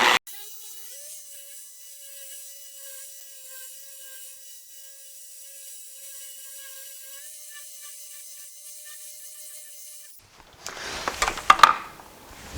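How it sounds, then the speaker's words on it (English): A machine polisher on its lowest speed whines in a steady, thin tone as it spreads polish across the paint of a Mazda Miata, then ends in a brief burst of louder rubbing noise. "Start on 1 and spread the product around with the machine."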